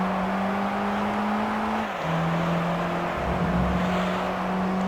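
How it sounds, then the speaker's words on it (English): Lotus Elise engine droning steadily in Gran Turismo Concept on the Autumn Ring circuit, a loud continuous tone that dips in pitch briefly around a gear change or corner then holds on, with no talk over it. "I am driving a Lotus Elise"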